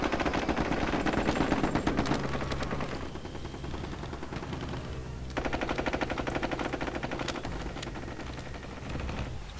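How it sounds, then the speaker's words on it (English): Machine gun fire in the WWII strategy game Total War: 1942, with dense, sustained rattling bursts through the first two seconds, a slightly quieter stretch, then another loud continuous volley from about five seconds on, with no talk. "Their machine guns."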